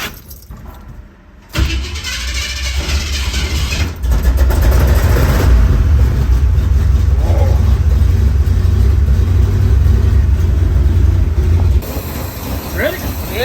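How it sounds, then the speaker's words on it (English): An old J10 truck that has sat for two years cranks and fires up after a quiet pause. Its engine then settles into a steady, loud, rumbling idle as it warms, running until the end with only brief dips. "So we got to start the motor, let it do its thing."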